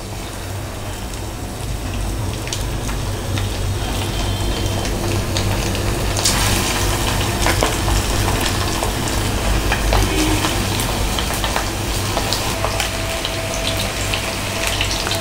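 Boneless chicken fries in hot oil for chilli chicken, giving a loud, continuous, dense sizzle and crackle with occasional sharper pops and stirring sounds close up.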